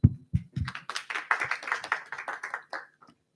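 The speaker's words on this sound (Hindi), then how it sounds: "हम उसकी सब ताली से उसका स्वागत करेंगे।" An audience claps to welcome a speaker at a Bhagavad Gita talk: a few separate claps open, then a dense, moderately quiet patter of many hands builds and fades away.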